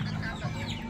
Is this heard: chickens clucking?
yes